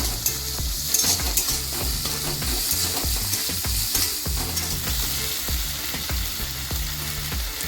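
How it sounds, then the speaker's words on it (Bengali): Chopped tomatoes sizzle in a hot pan for street-style anda bhurji, stirred with a spatula in steady scraping knocks over a constant frying hiss, close up with no talking. "এবার এর মধ্যে কেটে রাখা কুচো টমেটো দিয়ে দেব। এবার এই সম্পূর্ণগুলোকে কিছুক্ষণ ভেজে নেব।"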